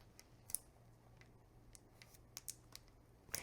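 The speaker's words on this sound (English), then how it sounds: "good thing I got this scissors then" Scissors cut open the packaging of a tarot card deck, giving faint, sparse snips and clicks in a quiet room.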